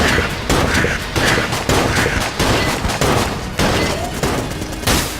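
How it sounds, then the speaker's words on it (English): Rapid bursts of gunfire from the video game Enter the Gungeon come in loud, close volleys at a steady rhythm of roughly two per second, with no talk over them. "Shoot him before he shoots you."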